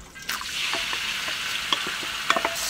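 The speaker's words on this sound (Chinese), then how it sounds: "油热下入切好的肉片" Sliced pork hits hot oil in a wok and fries with a steady, close hiss, broken by a few sharper spits and pops as the meat is stirred.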